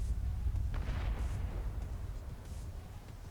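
A detonation in the Arknights video game rumbles loudly, with a sustained low boom and broadband crackle over about three seconds that slowly fades.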